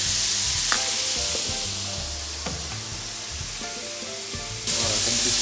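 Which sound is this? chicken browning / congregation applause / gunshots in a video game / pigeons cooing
chicken browning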